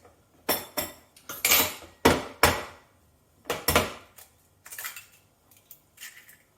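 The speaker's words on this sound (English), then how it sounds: "we're going to whisk up the 3 eggs" Three eggs whisked in a bowl, giving irregular bursts of close, bright metallic clinking and rattling that come in quick clusters and then thin out, with no talking.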